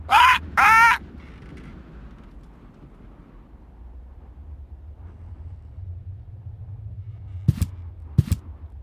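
A bird in the video game Deponia gives two loud, harsh caws close by, followed by a long low rumble and two sharp clicks near the end.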